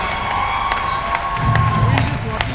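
A crowd at the Halo 2 national championship gaming event in Las Vegas cheers and applauds steadily, a dense wash of clapping and shouts that swells slightly toward the end, with an announcer's voice over it.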